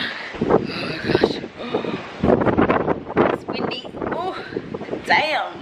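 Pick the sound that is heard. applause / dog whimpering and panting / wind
wind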